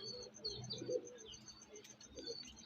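Soft, low cooing from a male Andhra Kalanka pigeon repeats in a few rounded bursts, fairly close, over a faint steady background with light chirps.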